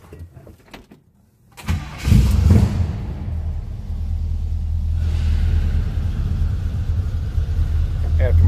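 A 1957 Chevrolet 150 two-door sedan engine cranks and catches after a quiet moment, then settles into a steady, loud, rumbling idle close by.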